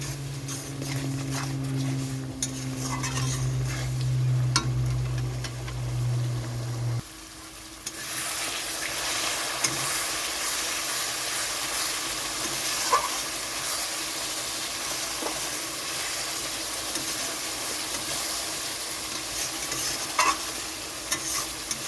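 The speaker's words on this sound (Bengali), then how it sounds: "এখন আমি মশলাটা ভালোভাবে কষাতে থাকবো।" Kashmiri chilli powder, turmeric and coriander powder fried and stirred in a pan for chicken kosha, giving a steady close sizzle with scraping stirs throughout, a louder low hum in the first seven seconds and no talking.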